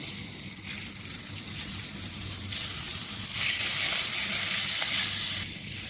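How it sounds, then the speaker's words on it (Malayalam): Scored boiled eggs frying in a masala of curry leaves and black pepper in a pan for a Kerala egg kurma, giving a loud, continuous close sizzle that swells in the middle, with no voices. "ഇതിൻ്റെ അകത്തേക്ക് മുട്ട ഒന്ന് ഫ്രൈ ചെയ്തെടുക്കണം കേട്ടോ"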